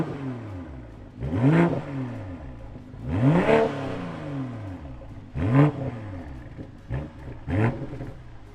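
A 2024 BMW M440i Gran Coupe's engine revs in four sharp bursts, each blip rising then falling, separated by quieter idle, heard at moderate distance without talk.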